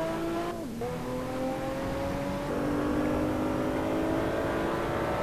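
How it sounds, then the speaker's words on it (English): A race car engine in the Assetto Corsa racing game, droning steadily, dropping briefly as it shifts, then climbing slowly in pitch as it pulls, loud and close with no talk. "Just listen to that engine."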